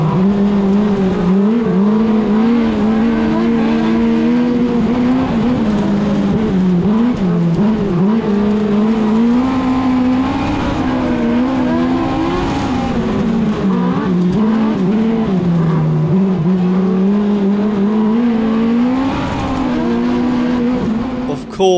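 UK Modified rear-wheel-drive race cars roar around the shale oval at Mildenhall Stadium, a loud, continuous pack of engines rising and falling together throughout, with occasional tire squeal and no talk.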